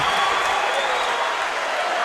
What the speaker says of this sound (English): Now that rises the FAU crowd to their feet.